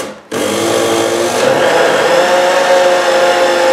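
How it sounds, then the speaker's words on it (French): An electric blender whirs steadily as it mixes baghrir crepe batter made with milk, flour and baking powder, starting abruptly after a brief pause and then holding a loud, continuous motor drone throughout. "il faut mixer votre pâte pendant environ 5 minutes"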